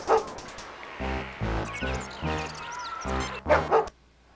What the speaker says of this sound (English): I would not get near that dog if I were you, Jim. It's suffering from rabies.